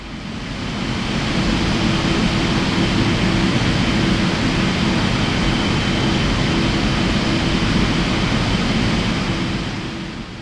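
Jet engines of a Boeing 777-300ER idling before takeoff, heard from inside the cabin as a steady, loud broadband roar with a low hum underneath, holding constant throughout.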